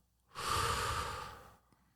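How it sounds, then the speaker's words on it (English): A single deep exhale during a guided breathing pause, a long, close, breathy rush of air that swells quickly and fades over about a second, alone against near silence. "And now exhale."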